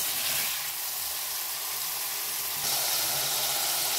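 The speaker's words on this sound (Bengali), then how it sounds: "তেল গরম হয়ে গেছে, এবার পনিরগুলো ভাজি।" Pieces of watery paneer frying in hot oil, a steady, dense, close sizzle throughout that swells slightly louder partway through, with no talking.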